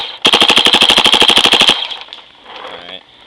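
A Proto SLG paintball gun fed from a hopper fires a rapid string of about twenty sharp, loud shots in quick even rhythm, then falls quiet into a faint mechanical rattle.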